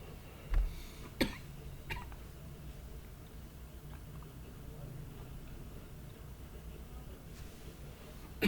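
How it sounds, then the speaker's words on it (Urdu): A couple of short, sharp coughs near the start, then a low steady room hum with faint background noise. "کیوں کھانسی لگی ہے"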